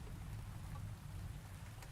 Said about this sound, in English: Rain poured through its leaves.